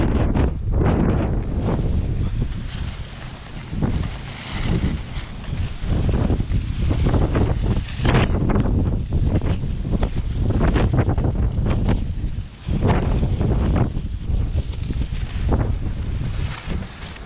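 Strong gusts of 25+ mph wind batter the microphone outdoors, producing heavy rumbling buffets that rise and fall in uneven surges throughout, loud and close with no voices.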